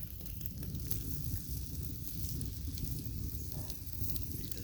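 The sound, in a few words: early morning campfire crackling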